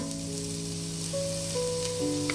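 Garlic sizzles steadily in hot oil in a pan, a soft continuous frying hiss with a faint tonal hum in the background.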